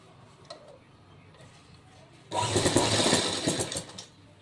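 A sewing machine runs in one short, close burst of rapid whirring stitching along a folded fabric strip, after a few quiet ticks and handling sounds.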